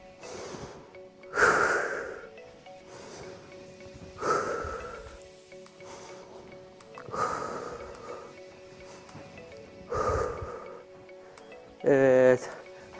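Deep breaths in through the nose and out through the mouth during a warm-up exercise routine, five slow, audible breath cycles spaced a couple of seconds apart, close and clear, with a short sharp sound near the end.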